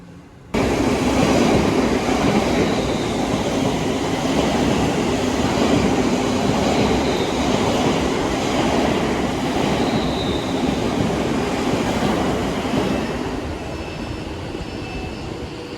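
A triple set of Class 350 electric trains rushes past at close range in a steady, loud roar of wheels and rail noise that holds for about twelve seconds before gradually easing off.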